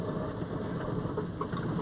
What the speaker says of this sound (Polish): Deszcz.